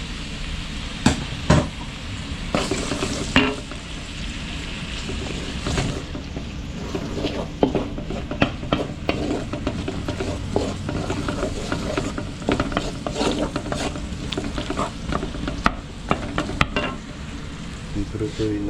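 Garlic and onion sautéing in a pan for a Filipino asado, constant sizzling broken by repeated scraping and clacking of a utensil stirring against the pan, no speech.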